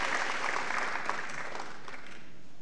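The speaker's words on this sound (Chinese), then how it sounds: "是不是给公司一个热烈的掌声" An audience at a company presentation for the Taiwan branch of Atomy breaks into dense, continuous applause that stays full for a moment and then gradually thins and fades out.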